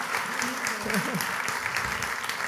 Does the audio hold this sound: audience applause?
yes